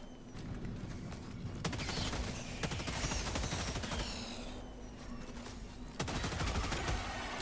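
Rapid gunfire bursts in Helldivers 2 crackle through a noisy battle scene, with repeated sharp shots and a fusillade of rattling fire, fairly quiet overall, with occasional louder cracks.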